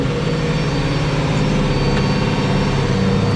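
An IH 1486 tractor's diesel engine lugging under load while pulling a plow or chisel in the field, a loud, steady, low rumble heard up close with no break.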